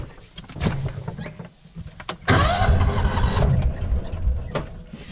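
A vehicle engine cranks and catches after a couple of short clicks, then settles into a rough close idle that holds for a few seconds before easing off.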